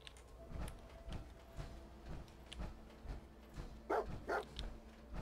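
A dog in the video game Fallout 4 gives two quick barks near the end, set among soft, regular footstep-like thuds and faint game ambience.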